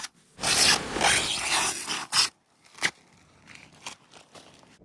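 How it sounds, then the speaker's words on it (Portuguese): Sanding epoxy resin on a boat where peg holes were filled: rough, rasping strokes in bursts, loud and close at first, then shorter scattered scrapes with pauses between. "Preciso lixar a resina epóxi e pintar aquela área onde preenchi os furos dos pinos"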